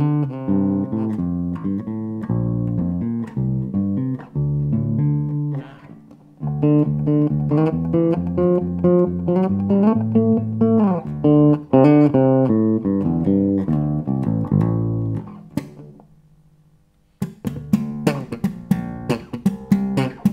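A bass guitar played through a small 10W Tommy Smith practice amp plays a series of plucked notes and short runs, close and fairly loud, with a brief pause before a final burst of sharper plucked notes.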